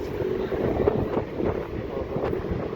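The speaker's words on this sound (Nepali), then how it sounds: "हावा पनि धेरै नै चलेको छ।" Strong wind in a cold, open outdoor spot buffets the microphone with a continuous low rumble that swells and dips irregularly, with no voice over it.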